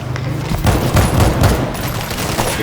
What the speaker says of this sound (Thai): ปืนยิงช้ามาก ช้ามาก